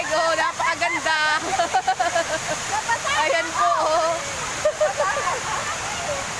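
Constant rushing of a river flowing strongly nearby, with a person talking over the steady roar.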